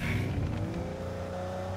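A vehicle is driven through hilly terrain in a battle royale shooter game, with a loud, steady engine roar that revs slightly and holds, alone with no voices.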